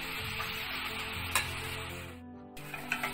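Onions and meat sautéing in ghee in a pan, a steady close sizzle with a few clicks of stirring, briefly dipping before the frying noise resumes.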